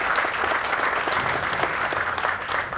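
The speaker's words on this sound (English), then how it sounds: "So round of applause for our partners with ShopRite." A round of applause from a crowd at a Jersey City groundbreaking ceremony for Hudson Exchange Phase II, steady dense clapping throughout at moderate distance.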